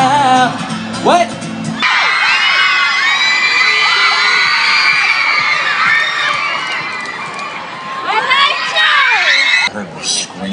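A large crowd of girls at a Today Show appearance by Austin Mahone screams and cheers continuously, loud and shrill, with a few shorter whoops and yells at the start and end.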